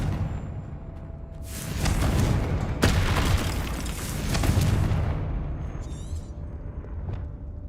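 A Confringo explosion spell in Hogwarts Legacy, a loud booming blast with a sustained rumbling roar that swells and fades over several seconds, no talking.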